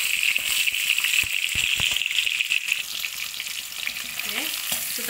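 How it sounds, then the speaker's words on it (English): Paneer pieces fry in a pan with a steady, close sizzle, broken by a few scraping stirs and clinks of a utensil against the pan. "So the paneer pieces are frying up"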